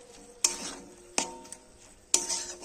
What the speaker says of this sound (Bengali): পেঁয়াজটা দিয়ে আমি নেড়ে নেবো।